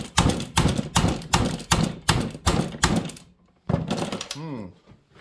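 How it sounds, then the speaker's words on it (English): Rapid heavy hammer blows strike the stuck flywheel fastener on a Sachs Dolmar 153 chainsaw, a loud close series of about eight hits, a brief pause, then a final burst and a voice. "next thing I'm going to do is grab a bigger hammer"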